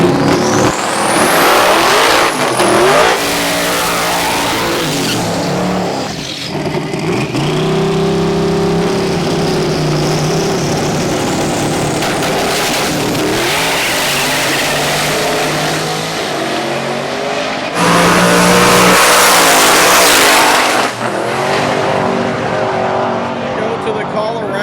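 Heads-up drag racing cars roar off the line and accelerate hard in repeated loud runs, engines revving and tires squealing, with people talking in between.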